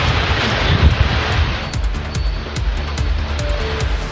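Heavy rain lashes the Thalaignayiru and Thirukkolai area of Nagapattinam district, driven by strong gusting wind, a steady loud roar of noise close to the microphone with buffeting rumbles throughout.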